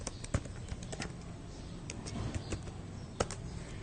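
Quick, uneven clicks from a computer keyboard being typed on in a text editor, close and fairly quiet, with two sharper strikes standing out from the run of keystrokes and no voices.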